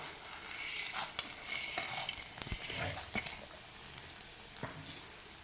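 Chana dal and urad dal frying in sesame oil, giving a soft crackling sizzle with occasional light clinks and scrapes of a spoon against the pan.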